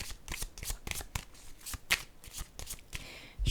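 Cards shuffled for a card reading, a rapid series of crisp riffling bursts in an even rhythm, close and clear with no talk over them.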